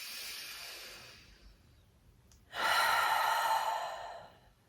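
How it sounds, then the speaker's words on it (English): Deep pranayama breathing: a long nasal inhale fades out, a brief pause follows, then a loud, forceful exhale like a sigh, close and alone. "Inhaling through the nose, take that breath as low into the torso as you can. And exhale with a sigh."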